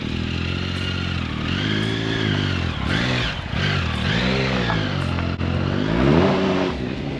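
A Triumph Tiger motorcycle rides on a loose surface with a steady engine drone. The pitch rises and falls as it revs, with gravelly clatter and scraping from the tyres, close and loud throughout, with no voices.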